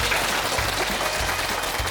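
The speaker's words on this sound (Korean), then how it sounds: "자, 박수!" A Korean TV studio audience claps loudly in a dense, continuous burst of applause, brief and close.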